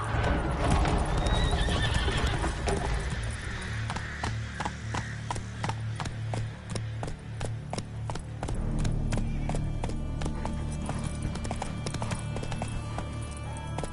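Roach, a horse in The Witcher 3, galloping with quick rhythmic hoofbeats that quicken into a steady drumming pattern, a whinny early on and game music underneath.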